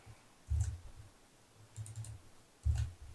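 A value being typed on a computer keyboard while setting a margin in a low-code form builder: a few short, close clicks of keys in small clusters, with quiet pauses between them and no talking.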